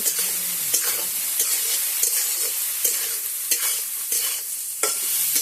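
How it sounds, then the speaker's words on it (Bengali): Boneless meat with onions fries in plenty of oil in a pan, a loud steady sizzle punctuated by regular scraping strokes of a spatula stirring the pieces. "নাড়াচাড়া করে কিছুটা ভেজে নেব"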